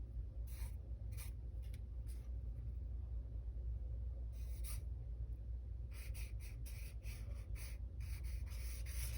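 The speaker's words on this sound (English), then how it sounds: "We're going to do a quick sketch with this." A pencil scratches across a sketchbook page in quick bursts of light strokes, some short and some rapid in series, over a constant low background rumble.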